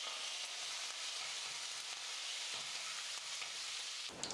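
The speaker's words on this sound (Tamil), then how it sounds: "முந்திரி ஓரளவுக்கு வறுபட்டதும் கருவேப்பிலை கொஞ்சம் சேர்த்துக்கிறேன்" Cashews and curry leaves frying in hot oil, a close, steady crackling sizzle that runs throughout with small pops and a brief clatter at the end.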